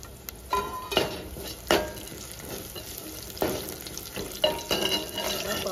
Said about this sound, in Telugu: బాగా మంచిగా ఫ్రై చేసుకోవాలి తాలింపు.